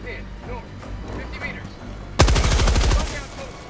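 Rapid machine gun fire from a bug-fighting co-op video game bursts in loud and dense partway through, following a stretch of quieter game ambience with voices.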